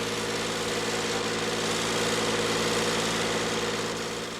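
A tractor engine idles close by on a Turkish farm, a constant low throbbing rumble with a faint knocking rhythm, running evenly throughout with no voices.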